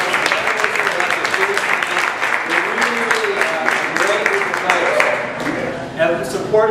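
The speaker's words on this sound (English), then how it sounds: "Round of applause for here at Urban Standard." Applause from an audience at Urban Standard, a food and coffee venue, as steady clapping that runs under people talking, with voices prominent over the clapping.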